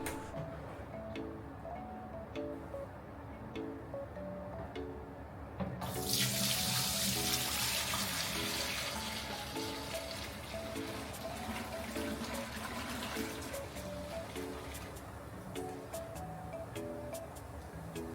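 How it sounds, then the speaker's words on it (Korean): Fermented agave wine pours into a home still, a splashing gush of liquid that starts abruptly and runs steadily, over faint rhythmic background tapping and clatter. "증류기에 아가베 발효주를 부어주고요."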